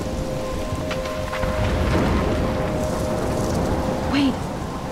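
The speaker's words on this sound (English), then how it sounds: "I'm trapped in a storm?" Thunderstorm with heavy rain in the video game Life is Strange: a steady, loud downpour fills the whole stretch, with low rumbling swells of thunder rolling underneath.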